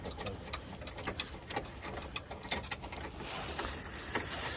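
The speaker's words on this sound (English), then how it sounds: "Loosen the bolt back here, no?" A hand ratchet clicks rapidly while loosening a bolt at the front of a salvaged 2013 Peugeot 208 under repair, giving a steady run of close, sharp ticking pawl clicks, with a slight scrape near the end.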